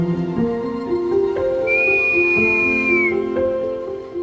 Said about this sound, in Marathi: आम्ही त्यांच्याकडे गेलो तेव्हा ते शीळ घालत होते